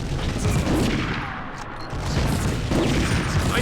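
Gunfire in the World War II shooter game Medal of Honor: a dense, loud burst of crackling shots and booms with rough, noisy texture, briefly easing midway before resuming.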